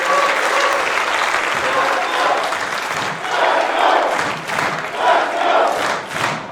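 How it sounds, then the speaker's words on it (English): At a West Coast Pro Wrestling show, a crowd applauds and cheers raucously, the clapping swelling and ebbing in loud waves with shouts and scattered thuds mixed in. "And more raucous applause from the West Coast block."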